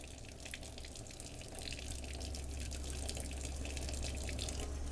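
Tap water runs steadily over an onion being washed in a kitchen sink while a sancocho is prepared, a soft, continuous splashing hiss that swells slightly after the first second.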